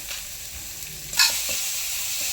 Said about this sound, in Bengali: সব মশলা ভালোভাবে কষানো হয়ে গেছে।